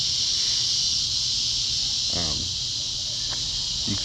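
Steady high-pitched insect buzzing fills the background throughout, with a brief voice cutting in partway and again near the end.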